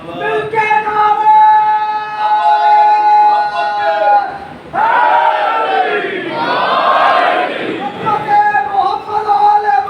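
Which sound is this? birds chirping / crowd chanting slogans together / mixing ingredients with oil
crowd chanting slogans together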